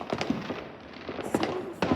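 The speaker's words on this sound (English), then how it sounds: "bunch of fireworks though" Fireworks bang outdoors on Bonfire Night, several sharp cracks and pops spread over a couple of seconds against a noisy background, with faint voices nearby.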